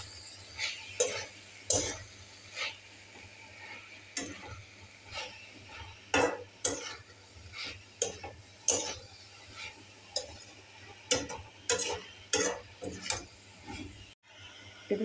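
Spoon stirring cumin powder into a banana flower and prawn curry, with repeated sharp scraping and clinking strokes in an irregular rhythm over a low, steady kitchen hum, close and moderately loud.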